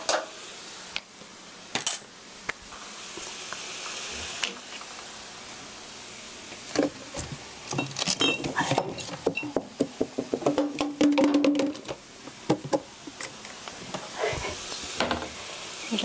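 Tofu being stirred in a pan with a tomato ketchup sauce and rice wine, giving soft scraping and sizzling with a few light utensil taps against the pan, close by and without talk.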